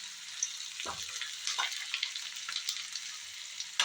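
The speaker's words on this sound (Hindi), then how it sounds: "यहाँ मैंने प्याज भून लिया है" Onions sizzling as they fry in a pan for a paneer curry, a steady soft hiss with a few clicks of utensil or spoon taps, close by and with no talking.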